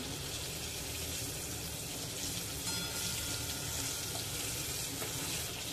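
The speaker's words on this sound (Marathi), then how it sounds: "हे माकळीचे तुकडे फ्राय व्हायला लागतात" Squid pieces fry in oil over a low gas flame as a continuous broadband hiss that stays even and moderately loud throughout, with no voices.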